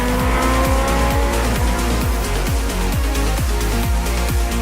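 Supercar Challenge race cars battle through the last corner at Spa-Francorchamps, engines screaming loud and continuous as repeated gear shifts cut in and out, with tire squeal through the turn and a commentator talking over the noise.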